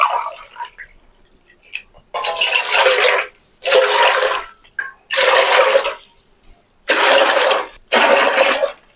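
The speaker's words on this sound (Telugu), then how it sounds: "5 గ్లాసులు నీళ్ళు తీసుకుంటున్నాము" Water is poured glass by glass into a large bowl: five separate splashing pours, each lasting about a second, with short quiet pauses between them.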